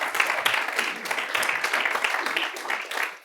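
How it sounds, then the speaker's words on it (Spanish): Congregation applause at a church service, a dense wash of clapping that runs steadily for a few seconds with some voices mixed in. "Un aplauso a ese Dios."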